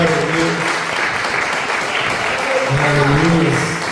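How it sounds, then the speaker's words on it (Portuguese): A church congregation applauds steadily and loudly throughout, a dense wash of clapping with voices and faint music mixed in beneath. "Você pode aplaudir o Senhor?"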